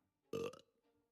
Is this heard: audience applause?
no